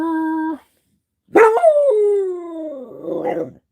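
A rescue dog howls close by, starting with a short steady tone, then after a pause a loud rising howl that slides downward and trails off into a rough, wavering end.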